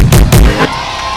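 A crowd at a campaign launch event breaks into loud bursts of cheering and shouting, two strong swells in quick succession that then fade into a lingering murmur.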